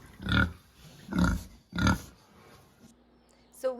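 A pregnant sow with a swollen backside gives three deep, loud grunts at a steady pace, each about half a second long, followed by a quieter pause and a brief higher squeal or creak at the end.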